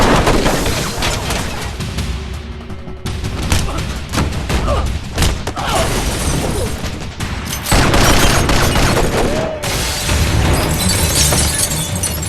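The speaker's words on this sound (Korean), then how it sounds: "총알 세례가 빗발치듯 쏟아지고" A film action scene with a sustained barrage of gunfire: dense, loud, continuous volleys mixed with shattering and breaking sounds, with brief dips before the firing surges again.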